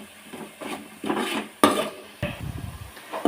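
A spoon stirs spices into fish curry in a pot, close scraping and knocking strokes in a steady rhythm with a soft sizzle beneath, no talking.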